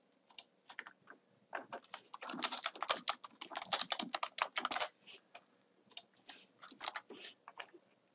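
Fast typing on a computer keyboard while entering grading feedback, close and clear, with dense clusters of key clicks in uneven bursts separated by short pauses and no talking.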